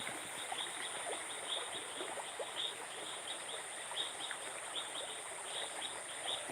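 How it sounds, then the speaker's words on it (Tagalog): Water flowing in a forest stream near a rural field at dusk, a steady soft wash heard alongside continuous chirping insects and scattered bird calls, all fairly faint and evenly spread. "kung maririnig nyo, may agos ng tubig."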